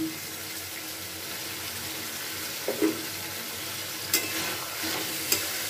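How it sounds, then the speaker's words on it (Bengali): Drumstick and potato curry gets a thorough stir in the pan, a steady soft sizzle with a few light scrapes and knocks of the spoon against the pan, no voices. "এটা দিয়ে খুব ভালো করে নাড়াচাড়া করে নিচ্ছি।"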